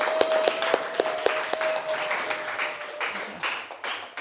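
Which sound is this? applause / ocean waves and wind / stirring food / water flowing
applause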